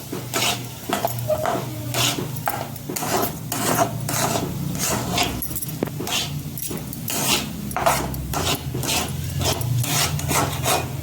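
Barnyard millet (bhagar) dry-roasts in a pan while being stirred, producing a dense, continuous rasping scrape with quick rhythmic strokes, close and fairly loud with no talking.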